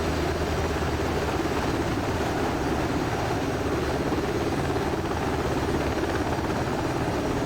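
UH-60L Black Hawk helicopter in the DCS World simulator, a loud constant rotor and turbine drone with dense blade chop, steady and unbroken from start to finish.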